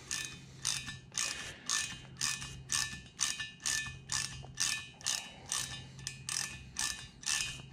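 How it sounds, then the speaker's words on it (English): A socket ratchet turns out a corroded bolt, clicking in a steady run of about fourteen evenly spaced bursts, close and distinct with no talk. "I found it easier just to stick it in a socket and a ratchet."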